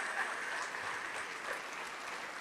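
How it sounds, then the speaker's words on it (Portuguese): A church congregation applauds in a steady, even wash of clapping, faint and somewhat distant, with no clear voices over it. "Oh glória, vamos aplaudir mais,"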